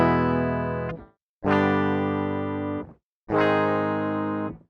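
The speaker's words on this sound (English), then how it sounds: "I'm just going to jump right in after showing a little bit of the clean sound" Three sustained strummed chords ring out from a clean-toned Shreddage Rogue 7-string virtual guitar, each held about a second and cut off before the next, with no talking.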